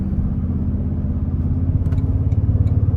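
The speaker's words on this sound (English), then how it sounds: "Sounds like there's a little bit more snarl through the exhaust too" A 2024 Toyota Sequoia TRD Pro's engine drones at low pitch in sport mode with a throbbing exhaust note that grows more pulsing and gruff toward the end, heard from inside the vehicle.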